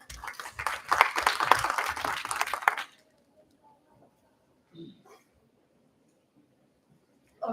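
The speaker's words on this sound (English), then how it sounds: "please give her a clap" An audience at an education and development conference claps for nearly three seconds, a dense burst of hands that stops abruptly, followed by near silence with a few faint stray sounds.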